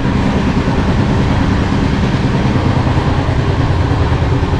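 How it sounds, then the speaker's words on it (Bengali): Inside the 12369 Kumbh Express passenger train on the move, a loud, steady low rumble and rolling roar fills the space without a break, with faint rhythmic wheel clatter underneath. "তো এখন এই ট্রেন জার্নি চলছে আমার।"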